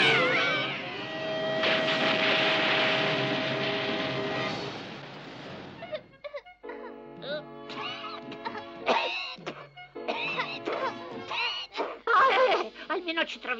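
A cat meows and yowls repeatedly in drawn-out, wailing cries, close and fairly loud, after a stretch of noisy background.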